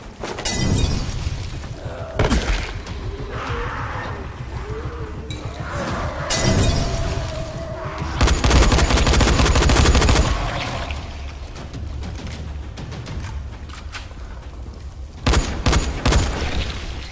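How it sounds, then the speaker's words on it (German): Firecrackers in the video game Dying Light burst in loud sharp cracks and crackling volleys, with shattering and booming bangs in clusters across the stretch. "Wir werden mal uns hier einen Böller nehmen."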